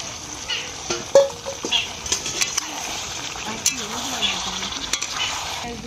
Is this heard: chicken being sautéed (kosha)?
yes